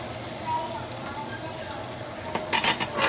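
Beef stew meat browning in a pan, a steady sizzle with a rush of rapid stirring and scraping clatter near the end.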